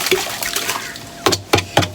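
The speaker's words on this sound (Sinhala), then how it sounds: "හොඳට වතුර ටිකක් දාන්න. හරි දැන් අපි හොඳට කලක්තනවා." Water splashes and sloshes in bursts as it is poured into a homemade Jadam organic fertilizer mix and stirred, close and moderately loud, with three distinct surges near the end.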